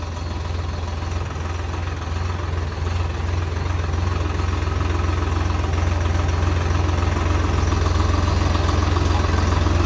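A Swaraj 855 tractor idles in rural Punjab, its diesel engine giving a steady, close, low rumble that holds evenly and grows slightly louder, with no voices over it.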